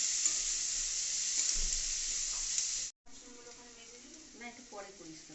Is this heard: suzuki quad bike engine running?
no